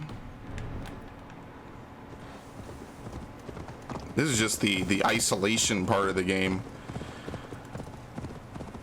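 Horse hooves clip-clop at a steady walking rhythm throughout the Viking-era open world of Assassin's Creed Valhalla, close and even, with someone talking over the middle stretch.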